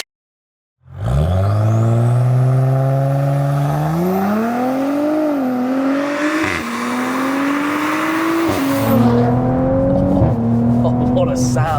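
A 550 bhp Audi B9 S5 with hybrid turbo V6 fires up after a second of silence, then revs repeatedly, its loud, close engine note climbing and falling through several blips and settling into a higher idle.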